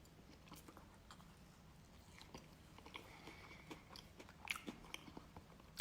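Close, quiet bites and chewing crunches on fancy glazed donuts, including one topped with salted caramel pearls, a few soft crunchy bursts over a low background with a sharper bite near the end.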